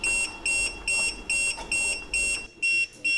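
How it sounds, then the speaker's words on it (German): Acoustic alarm of an emergency exit door sounding after the emergency release button is pressed: a loud, shrill electronic beep pulsing in an even, rapid on-off rhythm about twice per second, close and alone. "Das gibt sofort akustischen Alarm."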